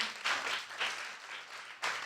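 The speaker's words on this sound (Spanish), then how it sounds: "Denle un aplauso al Señor." Church congregation applauding after a prayer service, a faint, distant patter of clapping in short swells that rises and fades over two seconds.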